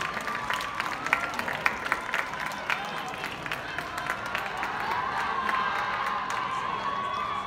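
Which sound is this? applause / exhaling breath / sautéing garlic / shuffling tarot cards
applause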